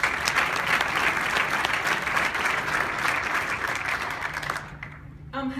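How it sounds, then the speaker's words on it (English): Audience applause at a Montana State University announcement, a full steady roar of many clapping hands that carries on for several seconds before thinning out and fading near the end. "you too deserve a round of applause"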